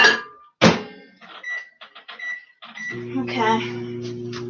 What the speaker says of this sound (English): I'm going to go ahead and put this in the microwave while that's cooking